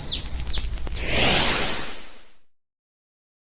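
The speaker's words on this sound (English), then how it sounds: "Sometimes I hear the same birds singing from past weeks" A few short bird chirps ring out at the start, then a rising whoosh swells and fades into silence.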